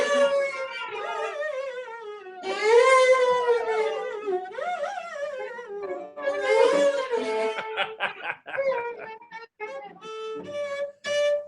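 Cello played with a very wide vibrato in a high register, bent into long wavering, sliding notes that mimic a frightened ghost's wail, followed by shorter plucked or bowed notes. It sounds close and solo, with no talking.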